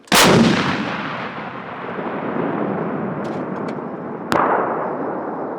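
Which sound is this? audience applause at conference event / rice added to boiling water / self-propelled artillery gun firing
self-propelled artillery gun firing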